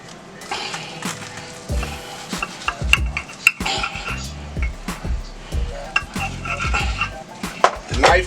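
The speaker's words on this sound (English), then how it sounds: "Let me cut this thing for us. Smash it down a little bit using my Niku knife." A Niku Tokyo knife pressing and cutting through a steak sandwich of meat, onions and bread, with irregular close crunches, knocks and clinks against a board or plate, under occasional talking.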